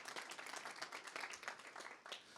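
A small group applauds at a city green task force meeting, a soft, fairly distant patter of hand claps running steadily for a couple of seconds.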